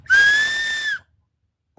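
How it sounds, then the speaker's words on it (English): Survival whistle from a hatchet kit, blown once in a loud, steady, shrill tone lasting about a second, followed by silence. "Pretty decent whistle."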